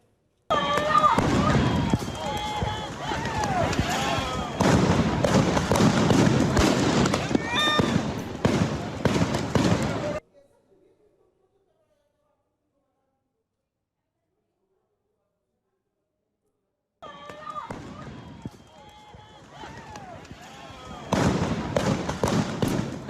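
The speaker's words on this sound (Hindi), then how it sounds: "ये जो फायरिंग की आवाज है वो भी आप सुन पा रहे हैं। आंसू गैस के गोले छोड़े गए हैं।" Sharp bursts of gunfire and popping tear gas shells at a street protest in California, rapid cracks over crowd noise, then a silent gap before the popping resumes.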